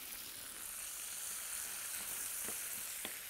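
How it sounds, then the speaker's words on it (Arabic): Food sizzles steadily in a frying pan seasoned with cumin and black pepper, a constant close hiss with a few soft scraping clicks of stirring toward the end. "وهحط فلفل اسود. هقلب كده."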